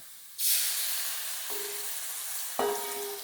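Water poured into hot frying masala of chilli and coriander powder in a pan hisses up sharply, a loud steady sizzle that fades slightly, then flares again with two fresh pours.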